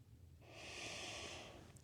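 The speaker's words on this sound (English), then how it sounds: "Just simply breathing." A single slow, audible breath drawn in during a calm breathing exercise, soft and close, rising and falling over about a second with no talk.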